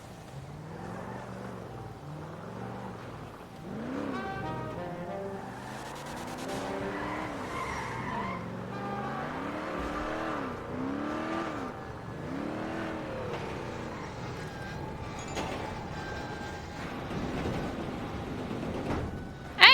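A car in the video game GTA skids with wavering tire squeals and revving engine tones over a long stretch, fairly faint and steady, ending in a sudden loud hit.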